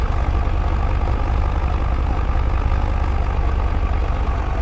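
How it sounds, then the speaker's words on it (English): A tractor engine in Farming Simulator 25 labours and bogs down under load, a loud, constant low rumble that runs unbroken throughout with no talk. "hear how the tractor's bogging down and stuff"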